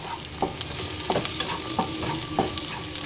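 Tomato chutney ingredients sautéing in a pan, a steady soft sizzle with repeated stirring scrapes at a regular pace, close and moderately loud, no talking.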